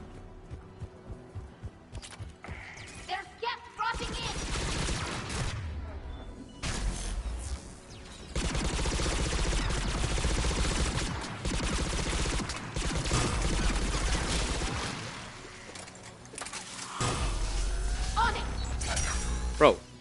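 A light machine gun in Mass Effect 3 fires in long heavy bursts with clanking reload and mechanical rattles between them, loud and close, with voices talking in places.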